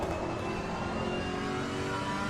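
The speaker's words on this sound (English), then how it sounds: "I need to hear the engine because it kind of helps me change gear" A car engine revs in a racing video game, a steady droning whine holding at high revs throughout, fairly quiet and alone.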